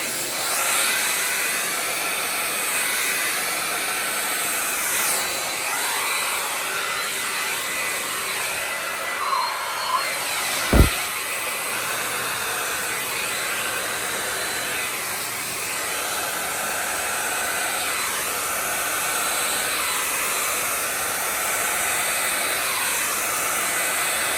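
A small handheld blower blows steadily on an acrylic Dutch paint pour, a loud continuous airy roar close to the source, with only a brief knock partway through and no talking.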